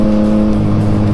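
A Yamaha MT-09 motorcycle engine fitted with an aftermarket full exhaust rumbles loud and steady at close range, a deep continuous drone with strong low tones and no talking.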